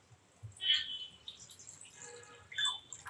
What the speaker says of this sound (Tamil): இப்போ இந்த பாத்திரத்தில் கொஞ்சம் தண்ணி சேர்த்துக்கலாம்.